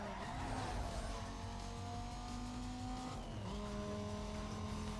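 A race car in Need for Speed Most Wanted drives at speed, its engine droning steadily with tyres squealing and skidding through a turn, a brief shift in pitch partway before the engine note settles again.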